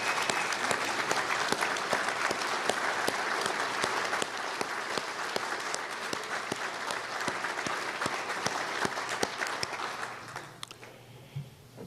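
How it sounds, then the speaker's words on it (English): Sustained applause from the crowd at the 2012 Constitution Party National Convention, dense and even clapping that holds steady for about ten seconds before fading out. "I think we all should give them a round of applause for their service."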